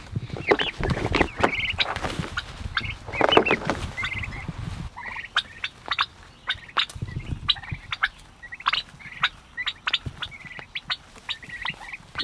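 Turkeys gobble repeatedly nearby, with bursts of rapid gobbling calls at irregular intervals over quieter clucks and shuffling, some calls loud and close, others softer.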